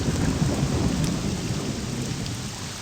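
Steady heavy rain with rumbling thunder in the video game Morrowind, a dense, continuous roar that holds at an even loudness throughout.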